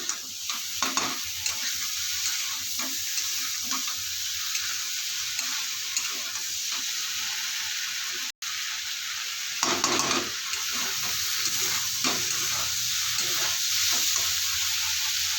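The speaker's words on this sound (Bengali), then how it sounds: "এখানে আমি কেটে রাখা ভেন্ডিগুলো দিয়ে দেবো দিয়ে ভালোভাবে মশলা থাকে কষিয়ে নেব ভেন্ডিগুলো" Chopped okra being stir-fried with spices, a sustained close sizzle punctuated by repeated scraping stirs, with a brief cut partway through and no talk.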